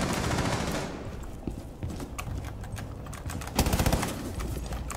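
Gunfire in Rainbow Six Siege rings out as rapid bursts of shots, sharp and fairly near, with a dense cluster of rounds toward the end, no talking.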